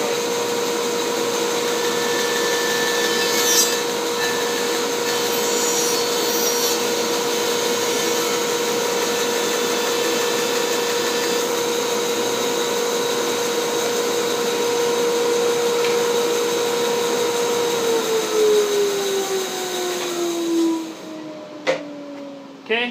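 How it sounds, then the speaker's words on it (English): A workshop dust collector runs as a steady, loud, continuous whine and rumble through the whole stretch, winding down near the end as the motor is switched off. "Forgot to turn the dust collector on."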